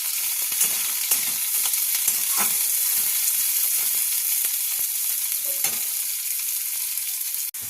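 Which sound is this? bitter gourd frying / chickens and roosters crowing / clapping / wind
bitter gourd frying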